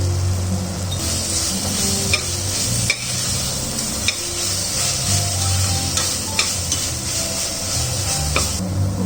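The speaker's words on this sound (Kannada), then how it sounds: "ಈಗ 2 ನಿಮಿಷ ಚೆನ್ನಾಗಿ ಇದು ಫ್ರೈ ಆಗಿದೆ." Mushroom masala for a green mushroom biryani fries with coriander powder and garam masala, a continuous sizzle broken by a spoon stirring and occasionally clinking against the pan, with no voices.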